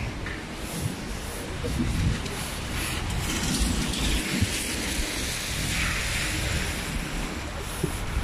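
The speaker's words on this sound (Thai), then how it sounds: "ะอันนี้ฝนมันตก" Rain falling steadily outdoors near a cluster of black mushrooms in front of a shopping mall, a dense, even hiss with faint patter that carries on unbroken and alone.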